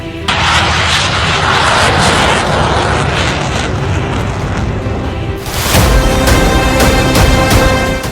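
An indigenous Tejas fighter jet flying at the Aero India show at Yelahanka airbase in Bengaluru, a loud, continuous jet roar that surges and shifts in tone partway through, with no speech.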